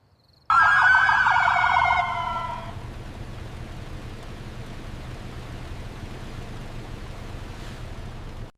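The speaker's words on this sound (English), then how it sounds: "The siren sliced through the humid night, blue and red lights flickering across the rain-slick asphalt." Police car siren wailing loud and close at a night traffic stop on rain-slick asphalt, a short burst of rising and falling tones that cuts off after about two seconds, leaving steady broadband hiss underneath.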